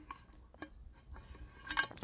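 Small camping frying pan from a portable cookware set being handled, light metallic clinks and taps in a short irregular series, close and quiet.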